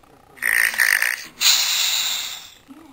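Two loud, close snores in sequence, a rasping inhale followed by a longer harsh breath, from a talking cartoon cat imitating a pig's snoring.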